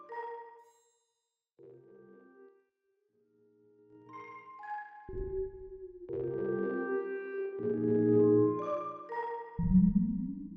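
Synthetic tones and chords ring out with long, swelling reverb tails that stretch and shift in length, ending in a loud, washy bloom.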